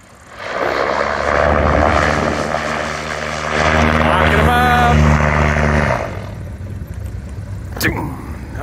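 A Red Bull Carbon Cub with a reversible-pitch MT propeller, passing at speed in a light crosswind. A steady, loud propeller drone swells, then fades as it goes by, with voices talking over it.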